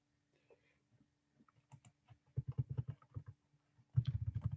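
Keys click on a computer keyboard while entering a website address, sparse taps at first, then quick bursts of typing, close and fairly loud in a quiet room.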